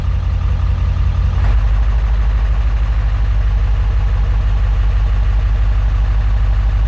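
A Ford OBS 7.3 diesel truck with a manual transmission idles on a high idle tune. A deep, steady, rumbling clatter sits close and loud throughout, with a slight shift in tone early on.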